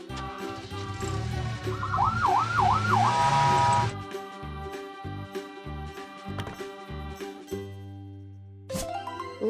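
Cartoon-style police car siren: a loud wailing tone rises and falls over a busy music bed, then cuts off and leaves choppy musical sounds.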